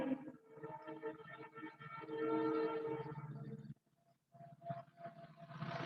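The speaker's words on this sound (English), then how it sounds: "Let that train go." A train passes by close enough to drown out the surroundings, its loud rumble and horn blaring on and off, then briefly dropping away before the noise swells again.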